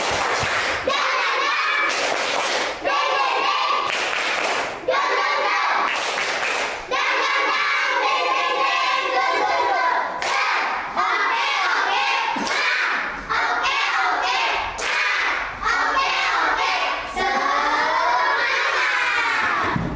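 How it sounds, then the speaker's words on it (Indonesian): Children in a classroom doing a rhythmic spirit clap, loud patterned bursts of clapping alternating with chanted shouting voices in a repeating cadence. "Tepuk semangat"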